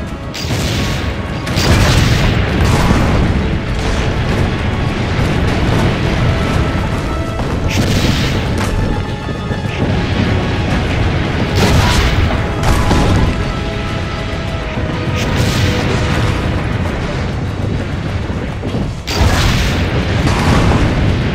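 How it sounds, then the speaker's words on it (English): Heavy cannon booms from the Assassin's Creed Brotherhood assault on Monteriggioni, repeated deep blasts over a dense roar of battle noise and crashing, loud and sustained. "Load the cannon."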